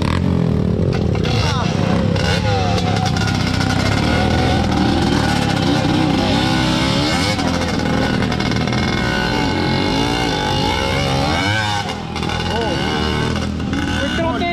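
A Honda MPX motorcycle fitted with a quick throttle and carburetor revs repeatedly, its engine note rising and falling continuously while someone talks over it.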